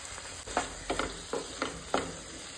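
Goan-style chole masala stirred in a pan, soft scraping strokes repeating about every half second over a faint sizzle, close and quiet.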